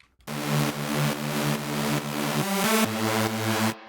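A thick, buzzy hard melodic schranz synthesizer tone built from three stacked saw waves with a hiss of white noise, holding steady chords that shift pitch partway through.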